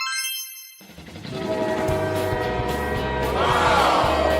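A cartoon shooting-star train arrives as a sound effect: a bright whoosh, then a rumbling train with tonal horn-like chords building loudly toward the end.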